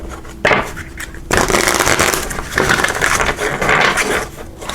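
A deck of tarot cards being shuffled close up, giving a dense, continuous papery riffling and flicking with a couple of sharper slaps, no voices over it.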